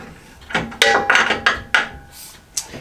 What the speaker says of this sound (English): There's 2 bolts to snug up.